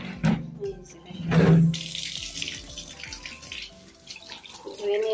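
Tap water running over a dirty chair brought in from a balcony to be washed, a steady splashing flow with bumps and knocks of the chair, and a voice speaking briefly near the start.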